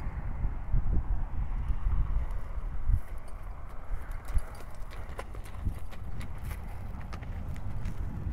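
Horse hooves clip-clop continuously outdoors as a stallion chases other horses, a fast, close, uneven drumming of footfalls over steady wind noise on the microphone.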